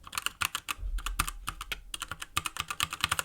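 A PHNX mechanical keyboard's keys clack in quick, uneven bursts, close and clear, with a deep, muted thock to each press and no voices.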